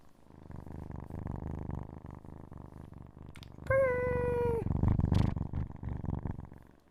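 Kittens purr close by in a soft, continuous low rumble, broken midway by one short, clear meow.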